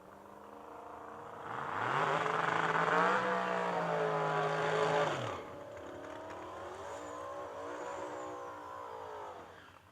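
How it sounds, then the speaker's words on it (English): A turbocharged, Coyote-powered drag racing car roars loudly at the Yellow Bullet Nationals, its engine note rising in a strong revving surge for a few seconds before settling into a steadier, still loud drone. "Hart's Turbo, Coyote Power."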